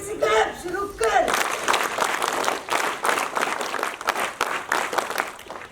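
Applause from a school audience at a Sainik School Toastmasters club event as a cadet's second-place award is announced, dense steady clapping lasting several seconds after a brief spoken line at the start.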